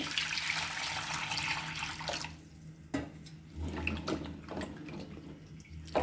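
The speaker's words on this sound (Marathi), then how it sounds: "आता आपण हे स्वच्छ पाण्याने धुवून घेणार आहोत." Running water splashes steadily from a tap for about two seconds while washing amla, then gives way to quieter, intermittent splashing and handling sounds.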